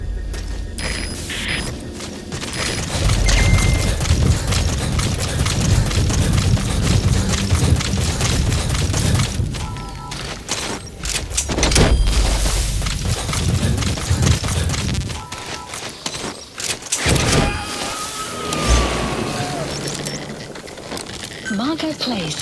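Continuous loud gunfire and explosions in the video game Metal Gear Solid 5: The Phantom Pain, with dense bursts, booms and mechanical clatter filling the scene, and a few shouted words over the din.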